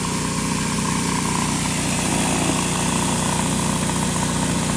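A pressure washer with a surface cleaner attachment runs along a concrete edge, a steady loud engine drone with a hissing water spray, continuous and close, with no talk over it.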